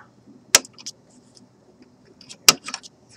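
Old capacitor being snipped out of an RCA Victor 94BT1 radio with cutters: two sharp, close metallic clicks about two seconds apart, the second followed by a few small rattles, over a quiet background.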